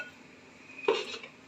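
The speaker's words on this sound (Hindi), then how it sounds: "प्रेशर कुकर को कर दूंगी बंद।" A metal pressure cooker lid is set in place and closed while mutton biryani cooks in a home kitchen, giving one brief clinking clatter against quiet background.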